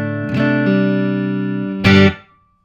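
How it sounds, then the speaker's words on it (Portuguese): Clean electric guitar tone played straight without an effects pedal engaged, a sustained chord ringing out alone, then a second louder strum near the end that decays quickly to silence. "Tá aqui o som da guitarra limpo"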